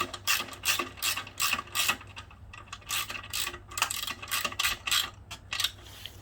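Bolts being tightened on a classic Honda CB125 or CB360 motorcycle during restoration: repeated bursts of ratchet clicking in quick runs with short pauses, close and clear with no talking.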